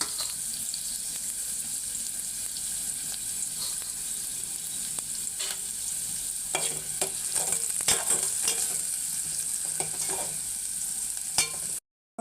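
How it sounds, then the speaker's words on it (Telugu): Onions fry with salt in a pan for a gongura prawn curry, a continuous close sizzle broken by repeated scraping stir clicks that grow busier toward the end. "మనం సాల్ట్ వేసుకుందాం, అప్పుడు ఆనియన్స్ కొంచెం తొందరగా వేగుతాయి."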